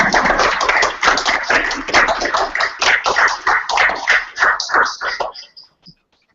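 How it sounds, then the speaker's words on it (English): Seminar audience applauds a dusty plasma physics speaker: a dense, steady round of close clapping from a modest indoor crowd for about five seconds, then fading out to silence. "let's give our seminar speaker a round of applause"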